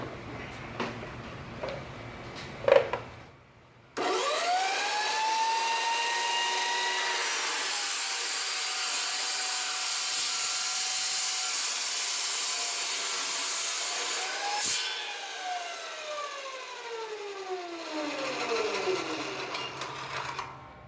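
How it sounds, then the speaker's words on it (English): A saw cuts through a closet upright between its holes, a steady broadband rasp running for about eleven seconds after a brief knock, then easing off as the cut finishes, loud and close with no talk. "make your cut somewhere in between the holes"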